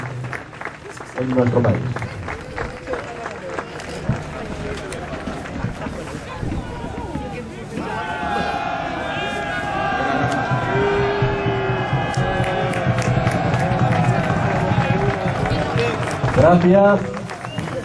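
An outdoor audience at a reenactment of the 1707 Battle of Almansa applauds in scattered, sustained clapping, mixed with wind and a voice speaking Spanish, and a tonal music-like layer joins midway.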